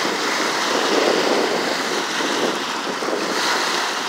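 Ocean surf washes in a continuous broad roar, with wind buffeting the microphone and no voices.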